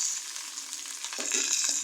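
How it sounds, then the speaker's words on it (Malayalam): Dried red chillies frying in hot oil while tempering mango pulissery, a bright close hiss of sizzling oil with a few stirring scrapes toward the end, brief and continuous. "അതാ ഉണക്കമുളകൊന്ന് വറുത്ത് വന്നപ്പോൾ"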